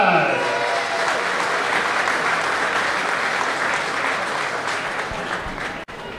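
Crowd at a Poole Pirates speedway meeting in Dorset applauding steadily and loudly for a rider, a dense, sustained wash of clapping and cheering that holds for several seconds before dipping briefly near the end.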